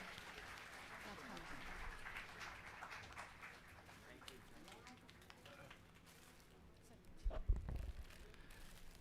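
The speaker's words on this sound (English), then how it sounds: "Students, please give him a round of applause again." Audience applause at a Teachers' Day felicitation for a college principal, a broad steady patter of clapping through most of the clip with a louder burst near the end.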